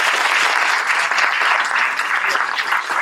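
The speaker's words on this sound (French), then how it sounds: "Faites-leur donc un tonnerre d'applaudissements" Thunderous, dense audience applause in a conference plenary hall, a loud sustained wash of many hands clapping that continues evenly throughout.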